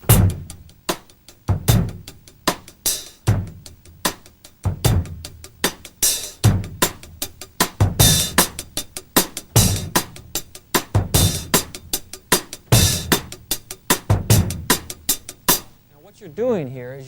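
Funk-rock drum kit groove with steady hi-hat, doubled snare hits and bass drum, played in a studio lesson; regular repeating pattern, close and loud, ending with a cymbal ring-out.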